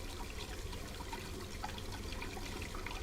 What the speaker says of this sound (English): The water is boiling hot.